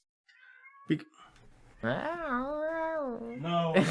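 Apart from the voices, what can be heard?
cat meowing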